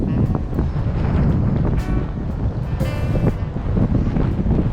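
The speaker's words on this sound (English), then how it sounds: "the waves are kind of crazy. They're really rough." Rough ocean surf at Atlantic City beach, a continuous loud roar of breaking waves mixed with heavy wind buffeting the microphone, steady throughout with no clear individual wave crests.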